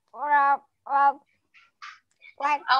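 Voices mimic duck quacks in a few short, nasal, harmonic bursts separated by pauses, with softer higher squeaks between them, up close in a quiet room.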